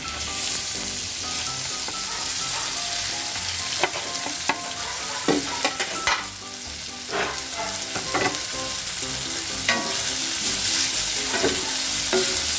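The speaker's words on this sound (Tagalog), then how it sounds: "So, itong tofu, kailangan ipirito muna natin siya." Tofu fries in a pan with a constant close sizzle, broken by occasional stirring clinks and scrapes throughout.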